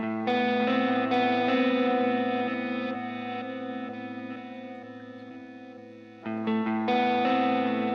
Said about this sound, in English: now I'm going to put the delay and reverb in